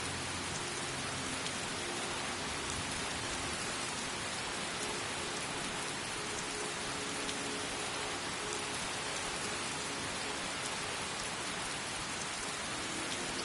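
Rain in the video game Skyrim, a dense, constant hiss of rainfall at night with no voices over it.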